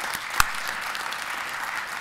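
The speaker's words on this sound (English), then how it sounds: "A round of applause." An audience at a panel talk on populism, religion and race gives the presenters a round of applause, dense even clapping filling the room for a couple of seconds with one sharper nearby clap.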